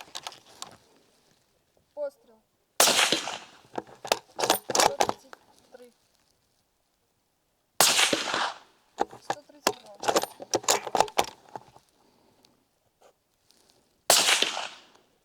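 Three loud, sharp shots from a Steel Revolution 3 rifle firing 180-grain rounds ring out several seconds apart. Each blast is followed by metallic clicking and rattling.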